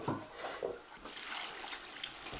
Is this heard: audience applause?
no